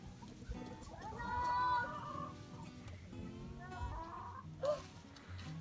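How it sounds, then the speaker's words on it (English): Several free-range chickens cluck and murmur continuously nearby, with rising calls and a brief sharper squawk near the end over outdoor background noise. "let the chickens out and free range for a while"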